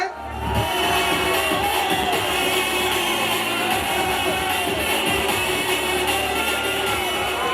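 A large concert crowd in Mandya roars and applauds for the singer, a steady, dense wash of clapping and cheering that stays loud from start to finish.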